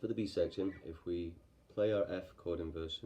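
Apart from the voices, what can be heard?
No everyday noises stand out.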